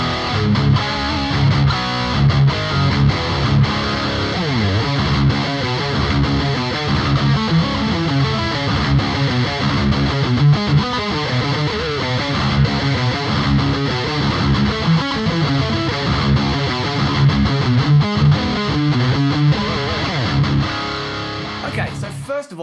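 A Gibson Les Paul Gold Top played through a Boss GT-1000 distortion into an amp model with a 4x12 cabinet, parallel reverb and delay: a dense, continuous driven riff, loud and steady throughout before cutting off near the end.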